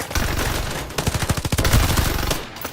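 Rapid automatic gunfire in the video game Farlight crackles in a dense burst lasting about two seconds, close and loud, over a steady backdrop of game sound.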